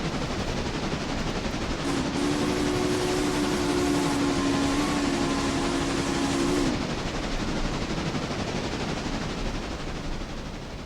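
A freight train rumbles continuously along the track in the video game Railroader, and a sustained horn-like tone sounds over the rolling noise for several seconds midway through.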